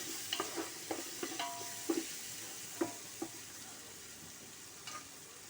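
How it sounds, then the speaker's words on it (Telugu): Tomato and onion softening in a hot pan give a faint, steady sizzle, with a few light clinks of a spoon stirring them; no one speaks. "మగ్గనిద్దాము, ఈ టమాటా కూడా మగ్గనిద్దాము."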